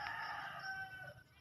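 A gamefowl rooster around four years old clucks close by, a short burst of throaty calls lasting just over a second.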